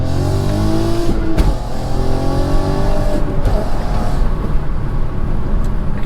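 A VW Golf R32 engine heard from inside the car while driving, loud and continuous, with rising and falling revs as it shifts and pulls through the gears.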